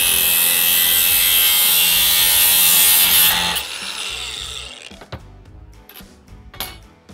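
A flexible heat pump hose being cut with a power tool, a loud steady grinding rasp for about three and a half seconds that stops abruptly, followed by quieter scattered clicks and handling knocks.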